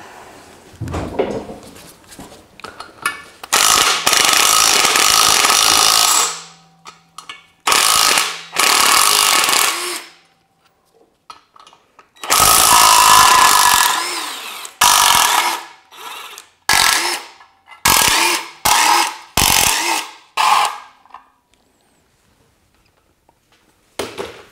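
A power tool loosening fasteners during an engine swap on a 2006 Volvo V70: loud, close, sustained rattling bursts of several seconds each, then a run of shorter clattering bursts separated by silence, with no talk.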